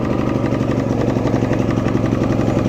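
A Champion dual fuel portable inverter generator runs at a steady, even idle nearby, a continuous throbbing engine drone with no talk over it.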